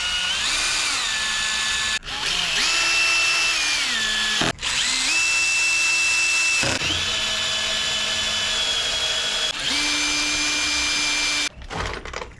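Power drill running in repeated bursts with pitch rising as it drives Phillips screws back into a Firman T07571 generator, several spins separated by short pauses, close and loud.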